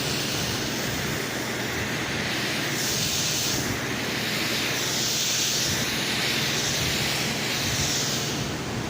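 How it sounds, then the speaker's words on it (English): An old handheld steamer hissing steadily as it steams dented foam in a car seat, a loud, unbroken rush of steam noise with slight swells and no speech over it. "This old crappy steamer, apparently you steam the spots where the foam's dented"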